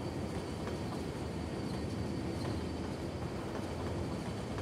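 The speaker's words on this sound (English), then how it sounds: "I kind of want to follow my train here." A train in Cities Skylines rumbles past with a broad, steady roar and faint rhythmic clatter, continuous and fairly loud throughout, with no voices.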